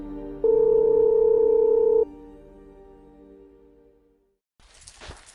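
A telephone dial tone sounds as a steady, loud tone for about a second and a half before cutting off, followed by a quiet lingering hum and a brief burst of noise at the end, in an animated drama.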